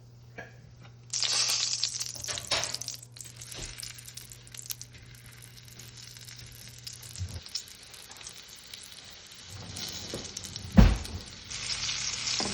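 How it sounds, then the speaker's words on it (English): Wahoo fish bites frying in a pan of olive or peanut oil and butter give a steady crackling sizzle throughout, with a few stirring knocks and a louder clunk near the end, no voices. "These are fried wahoo bites."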